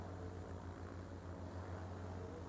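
Propeller airplane droning steadily in Transport Fever 2 during practice flights, a low constant engine hum held at even loudness throughout with no voices.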